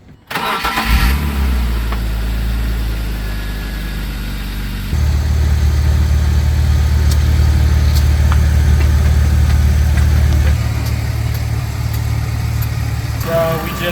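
A leaking-system BMW M3 E36 with 260,000 miles cranks and starts, then settles into a loud, steady idle that rises slightly in level midway, heard close up.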